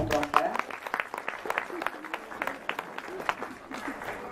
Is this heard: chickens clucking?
no